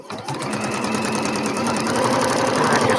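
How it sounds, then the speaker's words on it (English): A sewing machine stitches quilt pieces together with a rapid, steady mechanical whir and rattle. It starts up and continues evenly up close, with no talking. "Now let's stitch it together."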